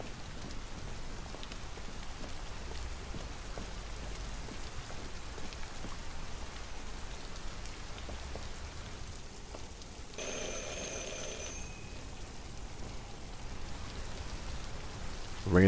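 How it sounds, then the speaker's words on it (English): Steady rain pours down as a constant hiss in the video game Detroit: Become Human, with a brief ringing tone cutting in near the end; no one speaks. "let's get out of this rain."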